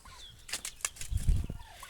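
Chickens cluck in short, soft bursts near a home flock kept with turkeys, with some wing flapping mixed in and a few louder low calls in the middle.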